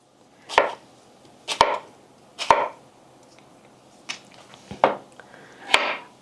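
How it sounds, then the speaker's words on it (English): A knife dices pears on a cutting board, six distinct crisp chops spaced about a second apart, each a sharp close knock with quiet between. "I'm gonna put them all this way and start dicing."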